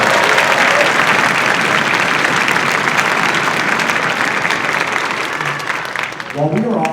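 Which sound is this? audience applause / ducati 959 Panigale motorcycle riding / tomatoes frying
audience applause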